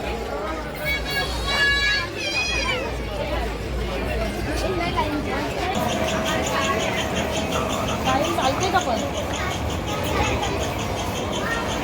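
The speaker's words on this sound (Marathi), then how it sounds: "खूप गर्दी आहे." Crowd bustle at the Mahalakshmi temple fair in Dahanu, a steady babble of many voices with nearby chatter, whistles and bells over it. The noise stays busy and continuous.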